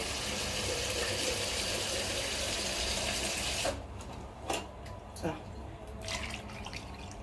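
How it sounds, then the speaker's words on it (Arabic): Water runs steadily into a cooking pot in a steady hiss for a few seconds, then stops and gives way to scattered clinks and knocks of the pot. "زودي كمان شويه ميه اهو"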